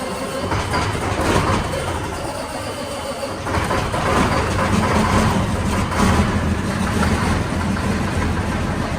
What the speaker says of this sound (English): I know there's a bunch of you out there that appreciate a diesel engine starting